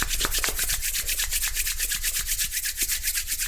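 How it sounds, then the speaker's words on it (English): Palms rubbed briskly together to make heat, a fast rhythmic swishing friction that repeats steadily for several seconds, close and loud with no talking. "Rub the palms towards each other to create some heat."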